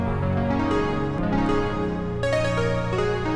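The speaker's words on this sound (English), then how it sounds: "I'm gonna be using another sound inside Anna 2 called 80s Are Back." Sustained chords from the 80s Are Back synth preset in the Ana 2 plugin, bright and full with many high harmonics, changing chord about every second, playing alone.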